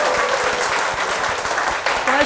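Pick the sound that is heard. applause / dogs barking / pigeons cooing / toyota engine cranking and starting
applause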